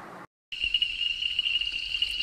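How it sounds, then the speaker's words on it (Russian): A steady, high ringing trill of calling toads carries on without pause, thin and bell-like against a quiet West African night background. "Слышите звук жаб, как колокольчики"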